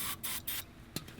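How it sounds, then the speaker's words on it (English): Starting fluid hisses from an aerosol can into a small engine's carburetor in three short bursts, fairly quiet and close. "Spray a little bit in the carburetor with the choke off."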